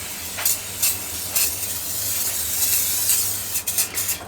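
Grease sprayed into a pan and small moulds before cooking crumpets: several short hissing spray bursts over a low steady background, ending in a quick cluster of sprays.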